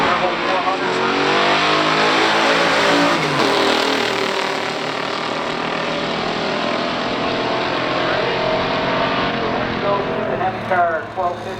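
A 1971 Dodge Hemi Super Bee with a Turbo 400 and a 1972 Buick GSX 455 Stage 1 run a stock drag race, their engines roaring loudly and steadily at full throttle before easing off near the end.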